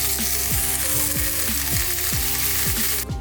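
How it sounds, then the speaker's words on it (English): Oyster mushrooms frying in a pan give off a steady, loud sizzle that fills the scene, with soft, regular clicking or ticking running through it. "I fried the oyster mushrooms first"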